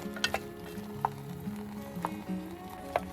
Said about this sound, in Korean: 무 역시 2분 정도를 볶아주세요.